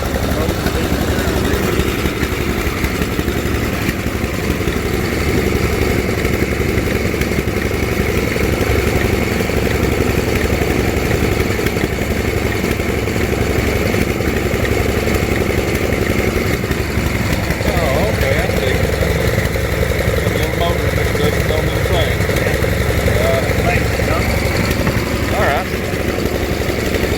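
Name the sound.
old tractor engine running at a machinery show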